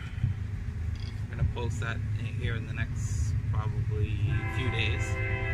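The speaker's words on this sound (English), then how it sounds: "There's a train going by." A train rumbles past in the background with a low steady drone and faint horn tones, while a person talks over it close by.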